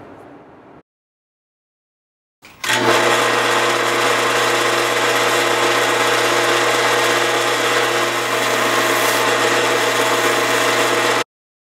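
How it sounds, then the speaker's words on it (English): A small wooden box spins on a lathe during wet sanding, with a steady motor hum and a continuous abrasive whir that starts abruptly after a brief quiet gap and runs loud and unbroken until it cuts off. "Now for the wet sanding."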